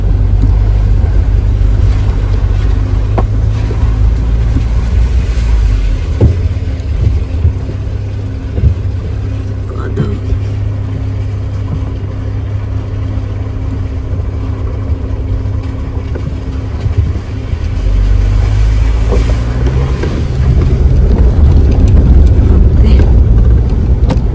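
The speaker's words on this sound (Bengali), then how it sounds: "জায়গায় জায়গায় ওয়াটার ক্রসিং রয়েছে" A vehicle engine drones low and steady while driving a rough mountain road through water crossings in Darma Valley, Uttarakhand, rising toward the end, with faint rumbles and splashy texture and some talking in the cabin.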